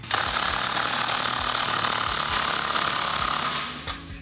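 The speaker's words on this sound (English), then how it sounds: "take a 15 millimeter socket to tighten it down" A socket ratchet driving a 15 mm nut down on a cat-back exhaust clamp, rapid loud clicking that runs steadily for several seconds before stopping, close to the microphone.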